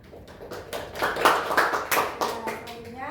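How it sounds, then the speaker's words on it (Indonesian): Classroom applause for a student's good answer during a collaborative learning session: a lively burst of many hands clapping, close and fairly loud, with children's voices mixed in. "Berikan aplaus buat Mbak Ana."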